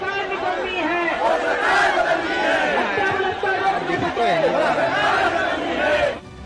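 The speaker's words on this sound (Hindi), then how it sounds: "वहां समर्थकों की भीड़ देखकर आकाश आनंद का जोश भी हाई हो गया।" Rally supporters of the BSP in Bhopal fill the scene with loud, continuous crowd chatter and shouting, many voices overlapping close by until the noise drops off abruptly near the end.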